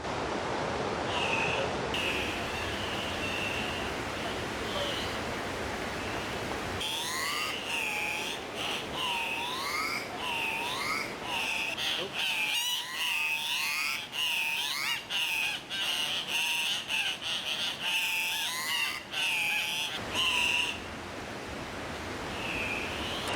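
Andean cock-of-the-rock birds in Antioquia give repeated harsh, squealing calls, close and fairly loud, in rapid bursts over a steady hiss of background noise, with no talk.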